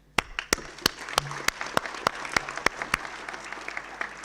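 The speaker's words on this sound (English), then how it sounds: "I would like, before we do that, to invite really a hand of applause for actually a panel" Audience applause for a panel at the opening of a ministerial segment and high-level dialogue, heard as sparse, separate claps from a modest crowd that thin out over four seconds.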